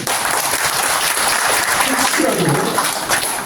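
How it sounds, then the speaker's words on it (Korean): Applause from an audience at a Buddhist commemorative service, a dense steady patter of clapping throughout with a voice speaking over it. "양해해 주시면 박수 한번 보여주시기 바랍니다."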